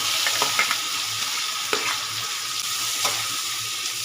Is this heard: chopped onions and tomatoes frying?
yes